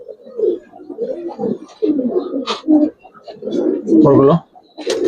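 Gribaz pigeons cooing in a loft, with repeated soft throaty coos and rolling calls close by, while someone talks over them.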